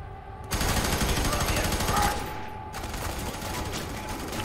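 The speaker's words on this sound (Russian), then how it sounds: "Кто там по мне стреляет?" Dense game gunfire in F.E.A.R. 3, a loud fusillade of rapid automatic shots filling the whole clip, with a voice talking underneath.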